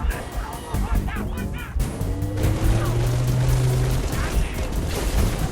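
Gunfire in the Halo Reach mission Winter Contingency rattles in quick bursts up close, mixed with game effects and a steady tonal hum, while voices speak throughout.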